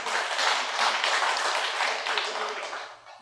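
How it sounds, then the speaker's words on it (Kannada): An audience at a Kannada talk on meditation and the power of the mind breaks into applause, a dense, continuous patter of many hands clapping that fades near the end. "ಚಪ್ಪಾಳೆ ಹಾಕ್ಬೋದು ಬೇಕಾದ್ರೆ"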